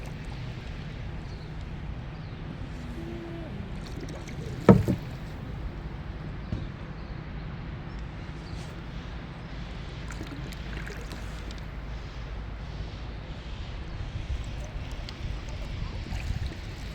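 Wooden punting boat gliding along the Avon River in Christchurch, New Zealand, with a steady low watery wash and hull rumble throughout, one sharp knock partway through, and faint background ambience.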